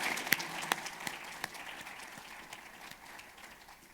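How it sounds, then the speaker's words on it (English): Faint, sparse audience applause rises briefly for sponsors at a transportation and mobility summit, a few sharper claps standing out before it thins to a light patter. "let's have a round of applause for all those great"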